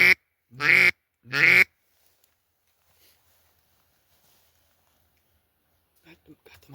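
Ducks quack from a hunting blind, with two loud, close quacks in quick succession followed by near silence and faint rustling toward the end.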